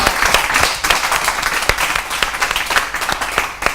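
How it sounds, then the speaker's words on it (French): Audience applause from parents and pupils in a hall at a school poetry contest in Paris, a dense, steady clapping that stays loud and close throughout with no voices on top. "Faites un maximum d'applaudissements d'abord."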